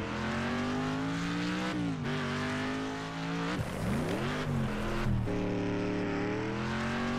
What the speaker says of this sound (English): Listen to that American engine.